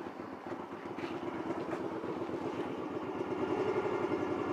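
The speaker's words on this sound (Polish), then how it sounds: "Tak pracuje silnik bez DB Killera." A Honda Shadow 125 motorcycle idling with its dB killer removed, a close, rapid, even engine pulse that runs steadily and grows slightly louder toward the end.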